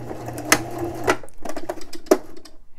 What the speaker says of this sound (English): and then come back to the middle and back stitch a little bit